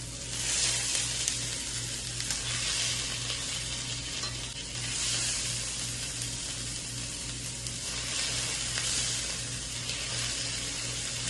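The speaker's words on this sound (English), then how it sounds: "I'm just gonna rotate them a lot just so it gets cooked and a little bit firm." Sausages for baked rigatoni sizzle loudly and continuously in a pan, close by, while they are turned over and over with soft scraping and clinking and a low steady hum underneath; no voices.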